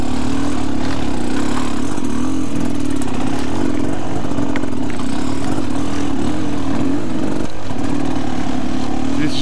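A dirt bike engine drones steadily while riding a trail in Hawaii, a close, loud buzzing motor with slight fluctuations in pitch and throttle throughout, accompanied by wind and rumble from the ride.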